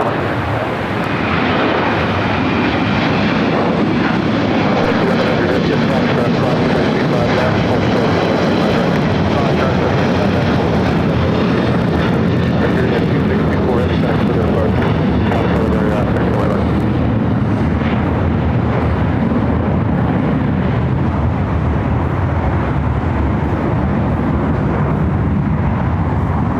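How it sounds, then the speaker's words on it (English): A heavy Airbus A350 on short final for runway 25 Left at LAX, a loud sustained engine roar that swells steadily and stays strong throughout. "heavy Airbus 350, short final wind, 24010, runway 25 left, clear to land"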